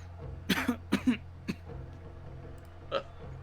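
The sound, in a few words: player imitating a character coughing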